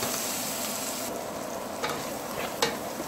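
Chicken kadai masala stirred and fried in a pan makes a steady close sizzle, with a few soft scrapes from the spoon and no voices.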